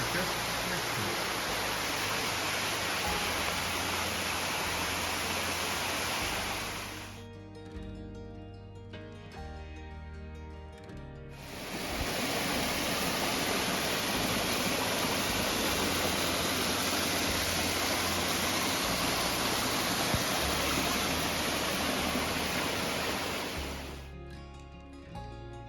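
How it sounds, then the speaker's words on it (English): A waterfall on a brook beside the Appalachian Trail, a loud steady broadband roar of rushing water that drops away briefly in the middle before returning at full strength, with no talking. "A waterfall along the Brook, and the trail is just next to it."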